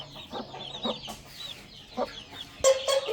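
Young chicks and hens cluck and peep in short, close bursts, several chirps scattered across a few seconds on a backyard poultry setup, no talking.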